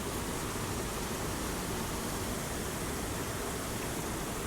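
Waterfall reached after a trek, a constant, dense roar of falling water filling the whole space, steady and unbroken without any voices.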